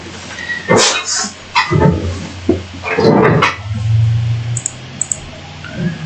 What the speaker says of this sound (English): The dog sees the cat, and the cat's just looking at the dog.